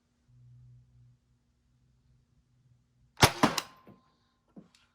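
Nerf Hyper Siege 50 blaster fired into a chronograph, producing a sharp, close burst of pops and snaps after a low hum, followed by a couple of faint clicks.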